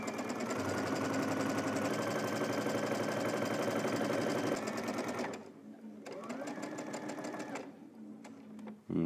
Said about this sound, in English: let's head to the machine.